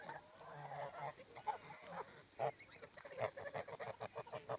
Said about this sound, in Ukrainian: Це ж ось стоїть гусак.